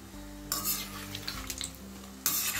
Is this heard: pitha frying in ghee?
yes